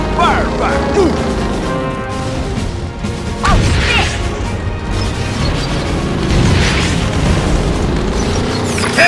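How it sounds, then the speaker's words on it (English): Explosions and gunfire from a firefight in the video game Battalion Wars 2: dense, continuous battle noise with repeated booms and crashes layered over a droning background, loud and sustained throughout. "Looks like we got ourselves a firefight."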